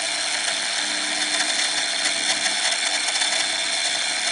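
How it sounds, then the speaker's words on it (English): An optician's lens machine drills holes in an eyeglass lens in sections, making a high, thin mechanical whine with faint clicking and whirring that rises and falls slightly at close range. "the lens is actually going into the drill"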